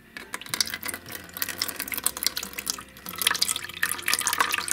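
Water runs from a garden hose into a container as it fills, a splashy, bubbling gush with uneven trickling spurts that grows louder toward the end, with no talk over it.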